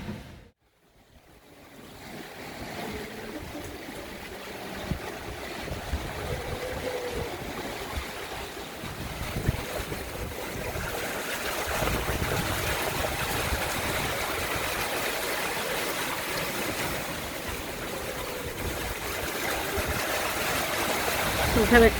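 The sailing catamaran Catweazle rushes fast through open sea on a Caribbean passage, with a continuous hiss of water and surf along the hulls and steady wind buffeting, building louder toward the end.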